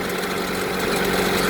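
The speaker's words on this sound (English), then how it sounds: "Okay, just started the engine." A 1997–2001 Honda CR-V engine idles right after a PCV valve replacement, giving a steady, close, even hum with a faint mechanical rattle and no change in pitch.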